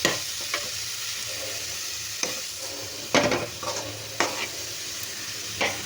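Chopped onion, ginger and garlic fry in a pan with a soft, continuous sizzle close by, broken by several sharp scraping stirs of a spatula at irregular moments.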